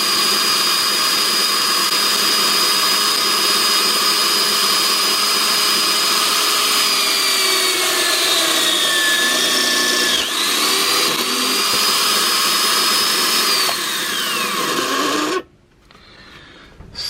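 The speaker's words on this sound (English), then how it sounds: "I'm going to drill a hole." A 1/4 inch drill runs for about fifteen seconds with a loud whining motor, its pitch sagging and rising as the bit bores a hole for a bed base table, then cuts off abruptly.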